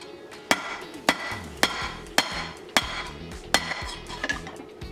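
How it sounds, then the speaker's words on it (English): A hammer strikes a copper bracelet during air chasing, landing about seven evenly spaced, ringing metallic taps at close range, with no talking. "I'm going to see if I can put my hammer on that."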